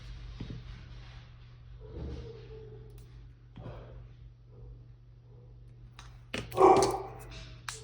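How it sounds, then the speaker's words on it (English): Several dogs bark at something out of sight, scattered distant barks and yips over a low steady hum, ending in a louder, closer burst of barking. "Now there's my dogs barking at something."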